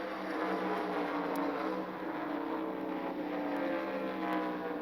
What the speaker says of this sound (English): And in fact, Dave Marcus is coming in right now.